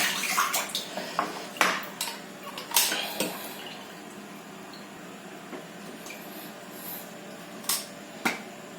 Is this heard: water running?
yes